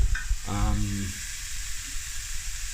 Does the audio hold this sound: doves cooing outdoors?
no